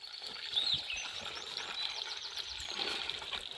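Water trickles and splashes steadily from a forest spring on a hiking trail near Carolafelsen in Saxon Switzerland, a soft continuous burble with birds chirping in the background.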